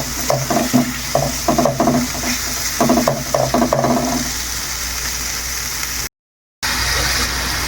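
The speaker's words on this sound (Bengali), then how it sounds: "এবার আমি এই চিংড়ি মাছগুলো মশলার মধ্যে দিয়ে দেবো।" Shrimp sizzle and fry in spice masala for a prawn do-pyaza, with rhythmic stirring scrapes over a steady close frying hiss and a brief break near the end.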